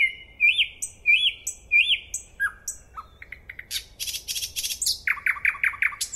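Nightingale song rings out close and clear, with repeated whistled phrases followed by rapid clicking trills, buzzy bursts and a final quick series of falling notes, all in a quiet setting.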